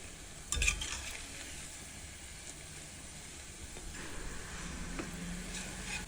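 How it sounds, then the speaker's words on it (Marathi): Palak kofta, spinach dumplings, frying in oil in a kadhai, giving a soft, steady sizzle with a brief clatter near the start. The sizzle stays faint and unbroken throughout, with no voices. "आपण ही दुसरी बॅच पण तळून घेऊया"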